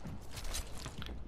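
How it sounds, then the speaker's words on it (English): A weapon reload in Apex Legends gives a quiet series of mechanical clicks and metallic handling noises, brief and close, with no talk. "Reloading."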